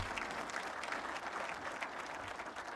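Audience clapping steadily at a Prime Minister's public event, a dense, even patter of many hands that carries on unbroken.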